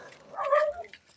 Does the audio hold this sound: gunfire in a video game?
no